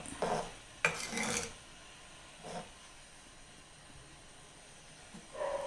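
A metal lid clatters onto a pot of dried-fish coconut curry simmering on low heat, with a cluster of clanks near the start, a softer knock midway and a final brief rattle, close by and fairly quiet.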